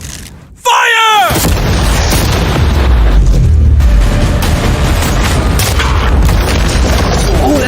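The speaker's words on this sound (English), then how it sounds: "Aim the cannon!" Cannons firing at a yacht: a sudden, very loud, close boom after a brief quiet moment, followed by sustained roaring blast and crashing debris that continues for several seconds.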